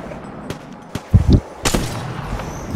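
Gunfire in the Apex Legends video game: a handful of sharp shots and a heavy, booming thump, close and loud, followed by a rumbling tail.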